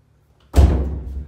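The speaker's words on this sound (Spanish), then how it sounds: "Dale, Carolina, abrí la puerta, hablemos bien" A single heavy bang against a locked door at home during a heated argument, one loud close thud that rings briefly before fading, with no speech over it.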